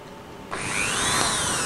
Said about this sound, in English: There's no drill wobble.